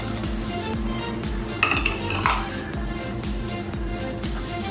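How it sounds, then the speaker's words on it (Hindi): Dry fruit laddu mixture of cashews, peanuts and walnuts being stirred in a pan, with rhythmic scraping and metallic clinks of a spoon against the pan repeating steadily, close and fairly loud with no talking. "सारे इंग्रेडिएंट को हम अच्छी तरह मिक्स करेंगे।"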